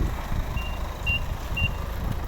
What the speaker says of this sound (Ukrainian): Пікає, ну, тому що ключ у мене в кармані, безключовий доступ і автомобіль заведений.